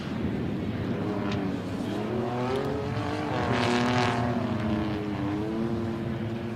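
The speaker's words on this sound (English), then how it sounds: "all the race cars are now left the start line" Several unlimited-class off-road race cars roar and rev together at the 2020 Mint 400, pitch rising as they pull away from the start line, a loud continuous motor drone with no voices.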